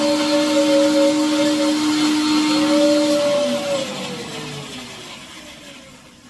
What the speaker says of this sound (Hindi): मैंने चावल गला के रखे थे ऐपन के लिए, तो वो मैंने मिक्सी में पीस दिए हैं